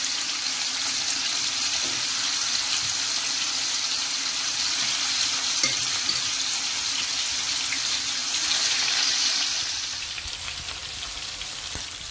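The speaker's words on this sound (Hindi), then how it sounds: "अब मैं चिकन को फ्राई करूंगी।" Chicken frying in a pan for chicken tikka handi gives off a steady, loud sizzling hiss that carries on without pause and eases slightly near the end.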